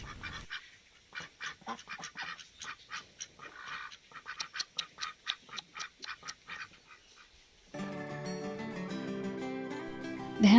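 Ducks quack in a rapid series of short calls at a resort, fairly close, followed by a stretch of music with the quacking stopping.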